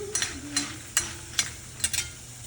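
Urad dal frying in a pan for chutney, soft steady sizzle with a handful of sharp scraping stirs spaced irregularly, close and fairly quiet.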